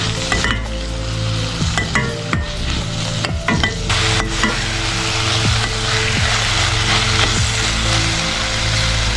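Chopped tomatoes sautéed and stirred in a pan for a red lentil dal, with a steady sizzle under repeated scraping and knocking strokes of a spoon against the pan, close and continuous throughout.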